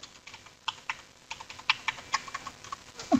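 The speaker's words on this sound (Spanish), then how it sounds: "se bloqueó el teclado" Keystrokes on a computer keyboard, irregular clicks and taps in short bursts, close and fairly quiet, with no voices.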